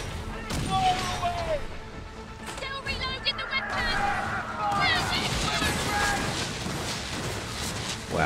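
Booming ship cannon shots in Skull and Bones, a few heavy blasts amid engine hum and water noise, with speech-like chatter in the background.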